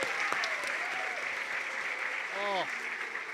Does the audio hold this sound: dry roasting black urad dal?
no